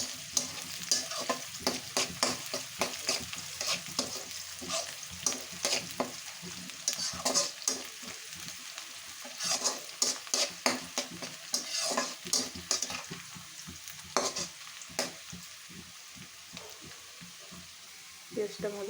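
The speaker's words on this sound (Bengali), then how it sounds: "তার ভিতরে দিয়ে দিচ্ছি পেঁয়াজ কুচি। ভালো করে নেব, ব্রাউন কালার করে ভেজে নেব।" Chopped onions fry in a pan until brown, being cooked for a fish-head muri ghonto dal, with a steady sizzle and frequent scraping stir strokes close by throughout. No one talks.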